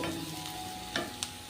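Thinly sliced green chillies sizzle steadily in a hot pan, a continuous soft frying hiss with a couple of brief stirring scrapes near the end.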